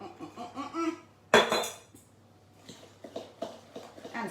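Cookie dry mix with brown sugar being stirred in a bowl, scraping and clinking of a utensil against the dish in irregular strokes, with one sharp louder clatter, fairly quiet and close.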